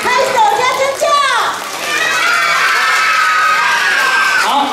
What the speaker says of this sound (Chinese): 拍手加尖叫。